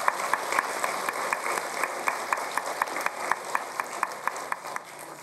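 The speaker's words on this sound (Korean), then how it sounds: "오성규 지사님 건강을 위해서 큰 박수로 성원을 해주시면 감사하겠습니다" An audience claps for independence activist Oh Seong-gyu at Gyeonggi Province's 79th Liberation Day ceremony. The applause is steady and rhythmic, with evenly spaced sharp claps over a continuous wash of hands, and no voices on top.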